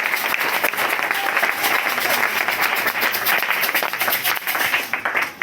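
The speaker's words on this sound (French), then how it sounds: "L'église applaudissant pour l'Éternel." A church congregation applauds during a prayer retreat service, producing loud, sustained, dense clapping with some rhythmic pulsing, while voices and cries from the crowd mix in underneath throughout.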